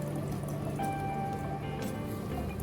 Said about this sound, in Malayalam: ഒരു അരിപ്പ് എടുത്തിട്ടുണ്ട്, അതിലേക്ക് നമുക്ക് ഇതുപോലെ അരിച്ചു ഒഴിച്ച് കൊടുക്കാം